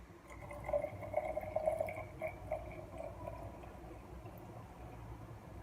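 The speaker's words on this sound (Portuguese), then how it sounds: "Aí eu vou pôr 50 gramas de água." Water being poured into a jar of sourdough starter, measured out as 50 grams: a faint, steady trickle with light dripping that builds over the first couple of seconds and then settles into a soft, continuous flow.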